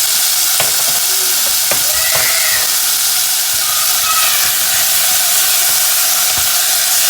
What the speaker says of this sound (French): je vais faire revenir tout ceci